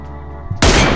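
A single loud sniper rifle shot, M24 or AWM, in PUBG, a sharp close blast following a quiet stretch of game sound, with a long booming tail.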